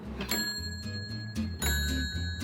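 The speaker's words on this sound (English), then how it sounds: "what makes this thing really, really cool is this also has bells" Bright metallic chimes from a wind-up music box's bells ring out in a few quick plucked strikes, their clear tones sustaining over a low mechanical hum.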